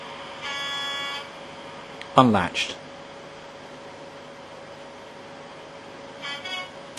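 A model Class 37 locomotive on Bachmann Dynamis sound sounds a short two-tone horn blast, with quieter buzzy tones before and after over a low background hum, and a voice speaks briefly.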